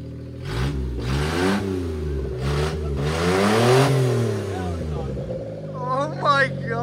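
A Suzuki Carry mini truck's small engine revs up and down repeatedly in rising and falling sweeps with a sharp, raspy, VTEC-like edge, close and loud, while people talk excitedly over it.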